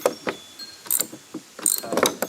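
Wrench spinning off two 9/16 or 14mm bolts with a locking nut from the brake of a Polaris Ranger, heard as bursts of close metallic ratcheting clicks over about two seconds, with no talking.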